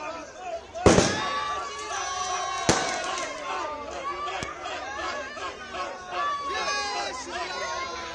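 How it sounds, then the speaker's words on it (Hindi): Fireworks and firecrackers burst at a celebration outside the Delhi home of the city's newly named chief minister: two sharp, loud bangs early on and a smaller pop, over steady crowd chatter and voices. "जहां पर आतिशबाजी की जा रही, पटाखे फोड़े जा रहे हैं और जश्न मनाया जा रहा है"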